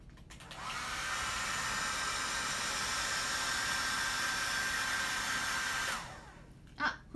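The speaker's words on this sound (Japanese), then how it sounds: "皆さんドライヤーしてるので音量注意してください。 今はクールモード。" A hair dryer on its cool setting blows steadily for about five seconds as a loud, even broadband rush with a thin whine, then cuts off abruptly, leaving a brief faint clatter.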